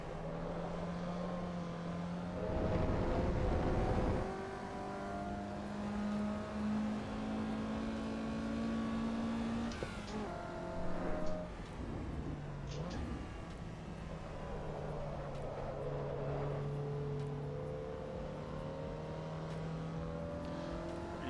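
A racing video game at Laguna Seca: a race car engine drones with a steady, whining pitch that rises and falls through gear changes and revs, with a brief rougher burst early on, continuous and moderately quiet.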